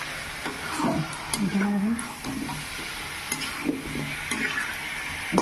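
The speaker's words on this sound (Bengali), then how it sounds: "ভাজা মাংস দিয়ে ভালো করে এটা কষাবো।" Fried chicken for coriander-leaf chicken is sautéed in masala in a pan. Steady sizzling runs under repeated scraping stirs of a spatula, while a voice briefly speaks nearby.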